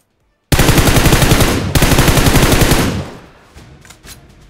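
Automatic gunfire in a firefight in PUBG Mobile, two loud rapid bursts of evenly spaced shots, close and sharp, then fading into distant scattered pops.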